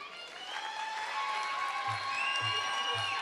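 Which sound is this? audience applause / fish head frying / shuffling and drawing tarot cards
audience applause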